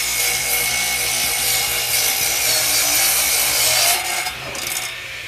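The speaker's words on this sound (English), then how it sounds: "Then I'm going to make my cut first because there's going to be 1/8 inch of kerf." A saw rips through a wood flooring board for a box truck, a dense, loud rasping cut that runs steadily for several seconds before easing off near the end.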